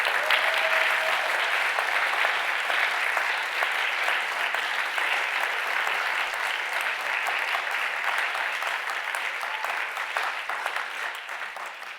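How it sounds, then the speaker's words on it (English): Sustained audience applause at an awards summit for five finalists, dense and continuous, gradually tapering slightly toward the end. "Let's give our 5 finalists another round of applause."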